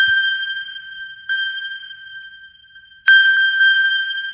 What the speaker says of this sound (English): the phone will ring